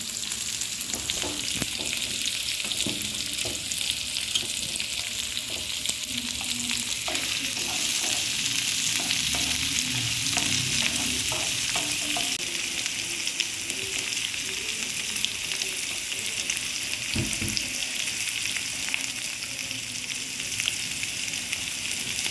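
A pot of rasam at a rolling boil on the stove, a constant close bubbling hiss with a few faint clinks, steady throughout, no talk.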